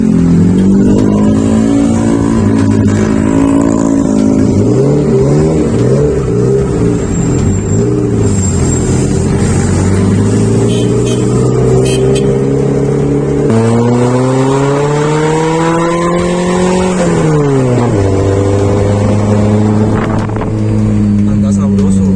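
Tuned Renault Twingo engine revving steadily while driving, loud and close throughout, with pitch climbing and dropping as the revs rise and fall, and a voice talking over it.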